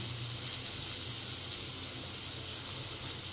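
Onion and curry leaves sizzling in a pan for paneer gravy, a steady, even hiss of frying that holds unchanged throughout at a soft level, with no voices over it.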